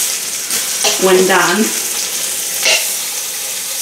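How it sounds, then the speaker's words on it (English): Meat sautéing in an Instant Pot for French dip sandwiches, a steady sizzle running throughout with a brief voice speaking over it partway. "this takes a minute to go ahead and get all this sauteed up"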